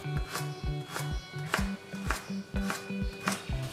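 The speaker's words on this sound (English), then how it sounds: "we are going to peel the carrots and chop them into pieces" Knife chopping peeled carrots into pieces on a cutting board for Spanish lentejas con chorizo, a steady series of about ten sharp close knocks at an even rhythm, with no talk.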